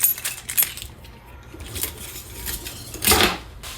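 Small metal keys jingle and clink in scattered bursts, with a brighter rattle near the end, close by and otherwise quiet, inside a 2022 Heartland Prowler 271BR travel trailer.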